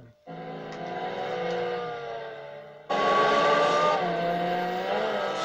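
Ford GT90 engine with Garrett turbos revving, a loud sustained engine note that holds steady and then jumps to a louder, higher pitch with a brief pitch sweep, close by with no talk.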